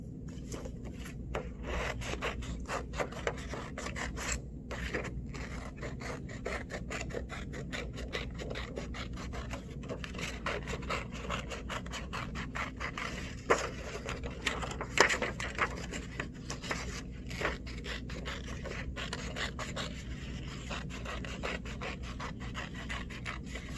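Scissors cut a paper circle for a homemade rainstick, giving a steady run of close, dry rasping snips and rubbing scrapes that last throughout, with no talking.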